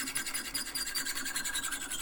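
A hacksaw cuts through the top of a steel Allen key clamped in a vise, with rapid rhythmic rasping back-and-forth strokes, close up and moderately loud, with no talking.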